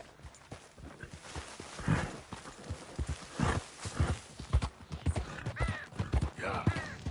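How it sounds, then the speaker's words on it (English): Horse hooves clip-clop in an irregular walking rhythm, close and fairly clear, with a few soft whinny-like tones mixed in and no speech. "That's a strong-looking horse."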